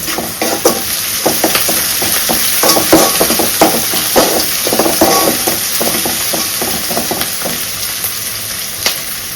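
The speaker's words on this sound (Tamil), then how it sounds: "ஸோ வெங்காயம் நல்லா வதங்குறதுக்கு." Onions sauté in a pan for a kurma, a steady close sizzle running throughout with repeated scraping stirs and small clatters over it, no talking.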